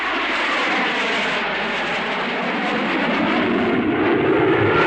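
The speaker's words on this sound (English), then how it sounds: "Heavy aircraft in our sector?" A heavy World Air Force Goliath aircraft with atomic engines passes overhead as a loud, continuous, broadband roar that swells slightly toward the end, with no voices.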